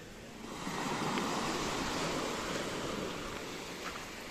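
Sea waves washing onto a sandy beach with a thin strip of fine pebbles at a hotel in Belek, Turkey. A broad, steady surf rush swells in and slowly eases, with wind noise and no talking.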